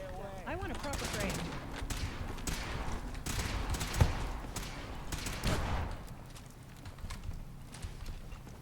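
Gunfire in a modded Fallout 4 game, rapid volleys of shots with one sharper crack midway, over a busy, dense background. Voices talk over it at times.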